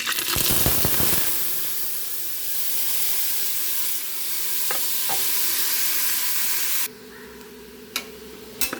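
Vegetables, capsicum and spices sizzle continuously in a hot pan, close by, with a few scraping stirs before the frying quiets toward the end.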